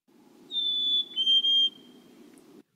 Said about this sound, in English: There are whistles, like the black-capped chickadee.